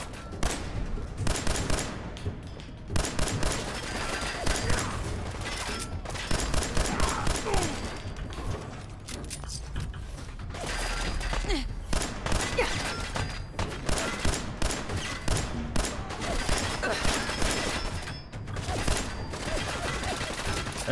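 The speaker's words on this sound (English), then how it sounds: "Machine guns are getting me." Machine gun fire in Fallout 4 rattles in rapid, repeated bursts almost continuously, loud and close, with brief pauses between volleys.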